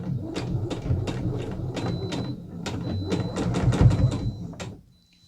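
A sewing machine stitches a dress shoulder seam in quick bursts of rapid mechanical whirring and clicking, pausing and restarting several times before stopping, with no one talking.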